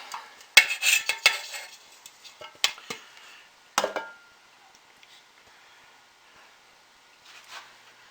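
A utensil scraping a thickened soap mixture out of a dish, with clattering, rasping strokes in uneven bursts that thin out into faint scrapes.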